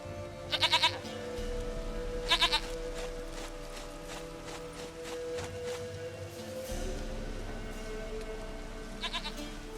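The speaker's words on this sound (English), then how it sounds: "Goat of mine, dearest, sweetest goat." Goat bleating in The Witcher 3, with three short, loud bleat bursts over a steady game ambience and background music.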